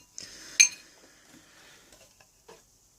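A bowl is set down with a bright metallic clink and a few lighter taps and rattles afterward, close and clear against near silence.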